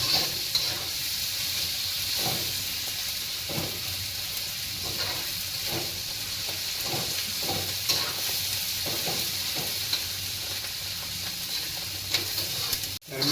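Egg bhurji sizzling steadily in a hot pan while a spatula stirs and scrapes it in repeated strokes, close and loud, with no talking.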